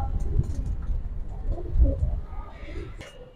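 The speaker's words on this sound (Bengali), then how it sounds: "দর্শক আরেকটা কবুতর দেখবো" Pigeons cooing nearby at a pigeon sale, a few soft, low rolling coos over light background noise.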